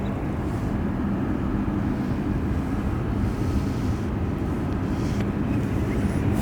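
A jet airliner takes off from runway 1 left at San Francisco International Airport, a steady, broad low roar with wind buffeting the microphone, holding even in loudness throughout.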